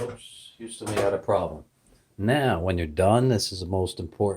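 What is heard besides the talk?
None of the usual background noises is heard.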